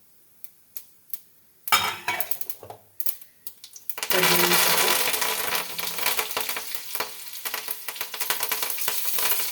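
Cumin and mustard seeds crackle and sizzle in hot oil in a pan: a few light taps, then loud, continuous frying hiss that swells and carries on steadily, close by with no talking.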